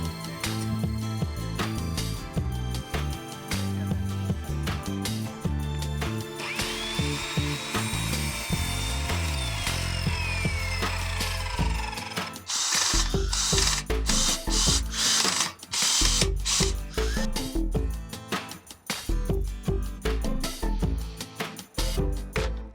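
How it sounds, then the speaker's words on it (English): Screwdrivers and drills work on a DIY campervan conversion at close range, with ratcheting clicks, whirring drill runs and tool-on-wood clatter in busy, irregular bursts. "We mean business now with 3 screwdrivers and drills."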